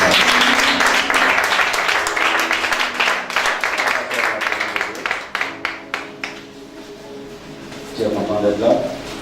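A church congregation at a worship service bursts into sustained applause and clapping that fades into scattered individual claps, with a voice speaking over it and rising again at the end.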